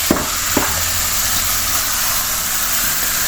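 Frozen jackfruit pods hit hot oil with dried red chili for a Kerala-style curry, giving a steady loud broadband sizzle throughout, with two small clatters near the start.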